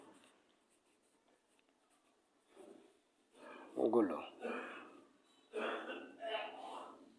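Multiples of two are written by hand during a fourth-grade maths lesson: soft pen or pencil scratching on paper in short bursts, with a person speaking over it.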